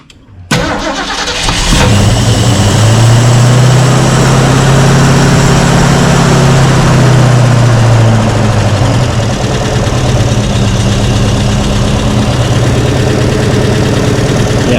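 A car engine fitted with Holley Sniper 2 fuel injection cranks briefly, catches with a loud roar, revs up, then settles into a steady, rumbling idle close by, with a faint lifter tick.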